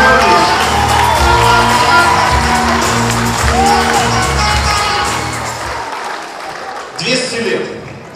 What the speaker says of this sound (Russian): Я попрошу аплодисменты